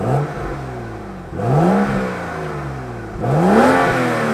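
Car engine with a modified exhaust, revved close by in two or three sharp bursts, each rising and then falling back to a loud idle rumble, with one brief spoken word.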